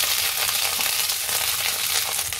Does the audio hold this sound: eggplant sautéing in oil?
yes